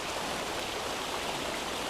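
A muddy river swollen by the day's rain rushes past the bank in a steady, close, dense wash of flowing water, unbroken and with no voices.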